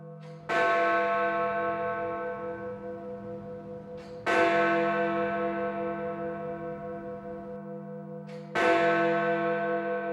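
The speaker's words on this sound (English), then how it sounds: "They modified the clapper, rehung the bell, and it still chimes to this day, complete with crack." Big Ben, the cracked great bell in the Westminster clock tower, strikes three times at even, slow intervals. Each deep, rich toll rings out and lingers until the next one.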